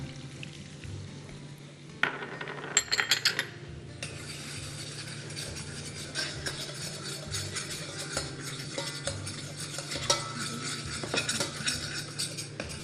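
Butter, oil and flour are stirred quickly in a pan to a creamy roux, a steady scraping swirl with soft sizzling underneath and a few sharper clinks of the utensil against metal.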